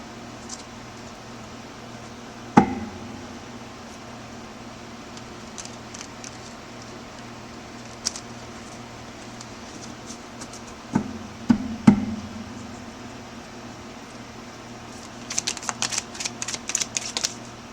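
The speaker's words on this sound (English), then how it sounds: "Let's flip them over. Let's shuffle them." A few scattered soft taps, then near the end a quick, dense burst of papery riffling clicks like cards being shuffled close by; no talking.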